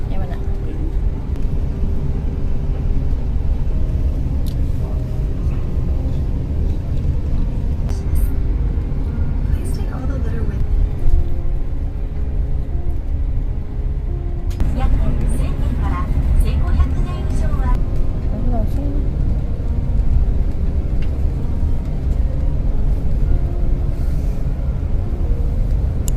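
A bus rolls along the Tateyama Kurobe Alpine Route toward Bijodaira in the Japanese mountains, its engine and road noise a steady, loud low rumble throughout, with passengers' voices faintly audible over the drone.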